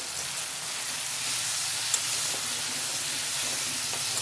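Chopped eggplant sizzles in a hot pan for a dry fish curry, a constant bright hiss of frying that holds steady throughout, close and fairly loud with no talking.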